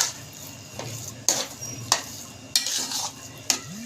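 A spoon scraping and stirring leftover roti halwa with nuts and raisins in a pan, giving several quiet metallic clinks and scrapes at an irregular, unhurried rhythm with no talking.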